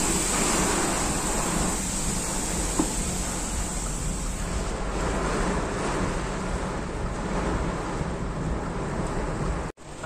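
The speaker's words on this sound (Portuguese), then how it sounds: "o vento tá me passando, mas com força mesmo" Strong wind roars past a vehicle moving at about 40 through a heavy rainstorm, a loud, continuous rushing buffet across the whole stretch that cuts off abruptly at the end.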